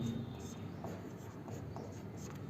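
Chalk or marker scratches across a classroom board in a few short strokes, faint and close, during a teacher's lesson.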